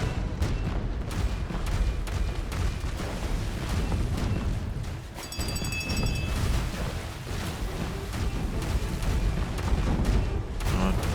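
Ship cannons firing in the pirate video game The Legend of Pirates Online, a dense run of booming blasts with heavy low rumble that carries on without a break over a steady battle din.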